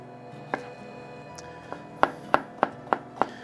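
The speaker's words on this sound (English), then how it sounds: "Just going to chop it up." A knife chopping giardiniera pickled vegetables (cauliflower, carrots, cucumbers) on a board, a few scattered cuts followed by a steady run of about six crisp close chops.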